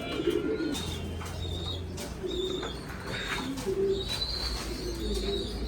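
Black Lahori pigeons cooing softly and repeatedly at close range, with overlapping low coos and occasional chirps from other birds nearby.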